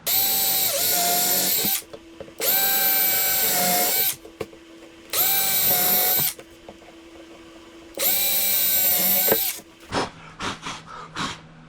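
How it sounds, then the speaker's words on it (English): A power drill whines loudly in four long bursts separated by brief pauses while building a crosscut sled, ending with a few short rapid trigger blips. "I think I'm going to do the same for the other side while I'm drilling these."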